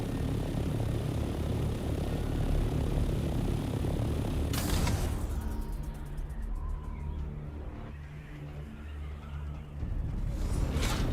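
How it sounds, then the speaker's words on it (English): A helicopter in the Dune video game drones with a steady rotor and engine hum, loud and continuous, with a sharp change partway through as it lands and the engine tone thins out before swelling again. "take my chopper, take myself into cover, and pray to the gods that'll be alright."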